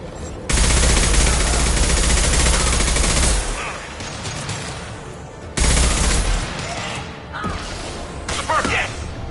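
Heavy automatic gunfire in the video game Mass Effect 2, loud sustained bursts with whooshing impacts, cutting out and then returning in a second long burst, followed by scattered quieter shots.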